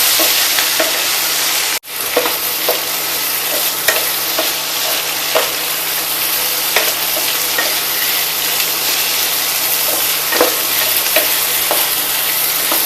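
Eggplant pieces frying in oil, a loud, dense, close sizzle that runs the whole time, with scattered clicks of stirring and one brief dropout near the start.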